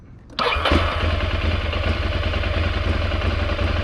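A motorcycle engine, in neutral with the clutch pulled in, cranks briefly after a quiet moment, catches, and settles into a loud, steady close-up idle.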